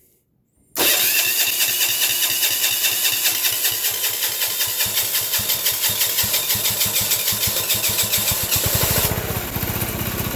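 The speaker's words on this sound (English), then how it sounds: "Middle of the night, dirty cold start inside here." A Sears Suburban 6HP diesel garden tractor engine cold-starts indoors and then chugs loudly and close by. Its rapid, rhythmic knocking pulses settle into a fast, steady idle.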